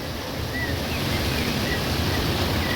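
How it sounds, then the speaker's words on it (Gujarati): A rain-swollen waterfall near a Khodiyar temple in Gir roars in a dense, unbroken rush, steady and loud throughout with no talk. "આ ધોધ"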